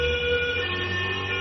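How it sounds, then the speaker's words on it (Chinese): A wailing ambulance siren rushing to the scene of a motorcycle crash in Sheyang County, loud and continuous with steady tones under road noise throughout. "随后赶来的救护车将方德高、方建飞父子送到了射阳县人民医院进行抢救"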